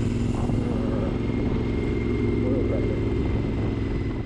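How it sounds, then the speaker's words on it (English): A Triumph Scrambler motorcycle rides around town, its exhaust note a steady low rumble that holds close and loud throughout, with faint wind and road noise. "I just want to let you get a soundbite of what it's like to drive around town, what the exhaust note is like"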